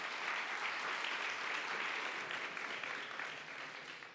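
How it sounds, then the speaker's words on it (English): Sustained applause from a crowd at a scale-up pitch competition, a thick wash of many hands clapping that fades slightly toward the end. "Big applause, guys."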